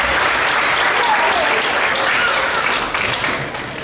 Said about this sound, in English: Give a round of applause for Mr. Saylor